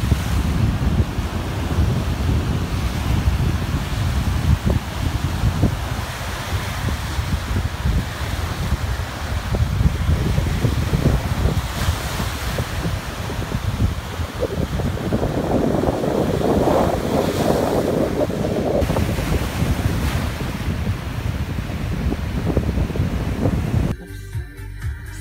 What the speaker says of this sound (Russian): Вот такое море.